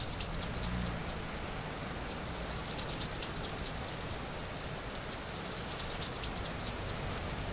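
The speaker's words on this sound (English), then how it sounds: "Maybe it's raining." Steady rain falls in the Vintage Story video game, a dense, even hiss of drops holding a constant loud level throughout with no voices or thunder.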